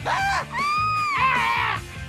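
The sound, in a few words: crowd screaming together on cue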